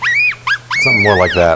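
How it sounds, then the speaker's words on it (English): A baby yellow-bellied marmot in Gothic, near Aspen, gives a few sharp, rising and falling screams in quick succession, followed by a voice speaking over a fading cry. "That's the sound of a baby yellow-bellied marmot screaming."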